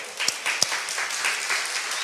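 A church congregation applauds during a Spanish-language sermon, a close, steady wash of many hands clapping that lasts about two seconds with a few sharper individual claps standing out.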